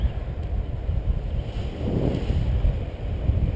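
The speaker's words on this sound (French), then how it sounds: "Il y a beaucoup de vent." Steady wind roars and buffets a microphone while paragliding, a continuous low rushing noise with no voices.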